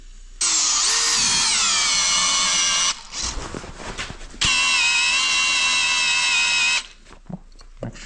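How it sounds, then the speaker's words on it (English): A power drill, lubricated with oil, whines loudly and steadily in two long bursts, separated by a short stretch of clattering and scraping handling noise. "Maybe if I add oil it will drill better."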